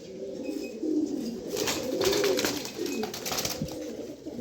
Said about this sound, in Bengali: দেখেন কবুতর ভয়ে কি করতেছে